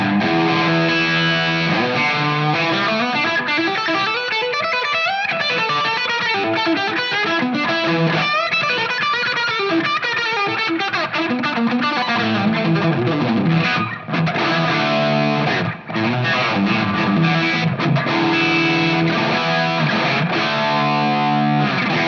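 An electric guitar on the bridge pickup runs through a Klon overdrive pedal into a Marshall JCM 800 amp, giving a loud, continuous stretch of gritty, driven playing that goes on for over twenty seconds without talk.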